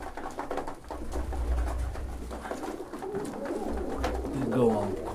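Pigeons coo softly in a loft housing around 140 to 150 birds, low repeated coos mixed with rustling, while someone talks over them.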